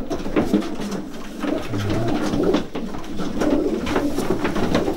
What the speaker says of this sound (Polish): To jest ten gołąb odkupiony na aukcji.